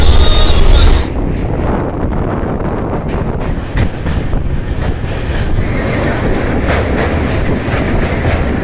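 An Anga Express passenger train runs on its rails from Yeswantpur to Bhagalpur, heard from inside as a loud continuous rumble with rhythmic clickety-clack of wheels and wind buffeting, a brief louder gust at the start.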